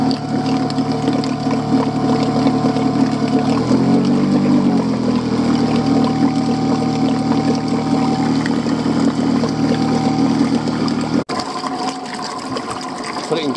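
An outboard boat engine runs steadily while clamped in a water bucket beside a shed, giving a loud continuous droning hum with a brief pitch dip as it is put in gear, someone talking over it before it cuts out near the end.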